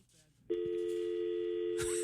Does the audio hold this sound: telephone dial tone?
yes